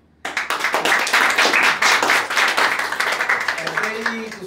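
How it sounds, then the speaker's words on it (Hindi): A comedy club crowd at an open-mic stand-up night breaks into loud, dense applause that swells quickly, then thins into scattered claps as a voice begins speaking near the end. "तो पहले था भाई मैड हाउस लिए बहुत बहुत तालियां।"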